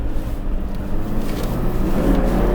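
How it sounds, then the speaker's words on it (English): A 2002 Chevy Tracker with four-wheel drive hums along while driving, despite needing a radiator and head gasket. A low, steady engine and road drone runs throughout with some wind rush and no talk. "Oh man, that thing is humming."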